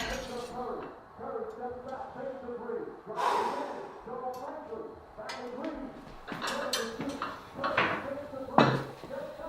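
Plates, dishes and silverware clatter in irregular clinks and knocks while a table is set for an anniversary dinner, with breathing and a person's vocal sounds mixed in close by.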